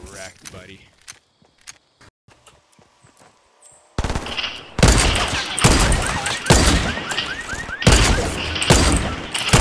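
Fortnite gunfire: after a few scattered sharp shots in relative quiet, a loud sustained burst of rapid automatic fire breaks out and continues in dense volleys, with a player's voice talking over it.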